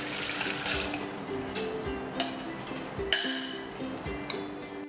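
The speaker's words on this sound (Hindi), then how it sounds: "दाल को पीसने के लिए हम इसका सारा पानी निकाल देंगे।" Water being drained off soaked lentils in a kitchen, a soft running trickle with small clinks of a utensil against a vessel, close and fairly quiet.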